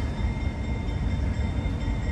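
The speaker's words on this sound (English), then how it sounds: "here comes the local coming back through" A local freight train rolls along street-running track in a steady, moderately loud rumble with no voices.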